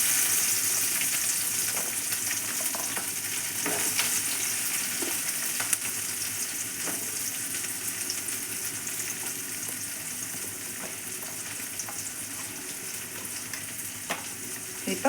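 Chopped onions fry in hot oil with popped mustard seeds for a spinach and lentil kootu, stirred now and then: a loud, continuous sizzle with faint scrapes and clinks from the stirring.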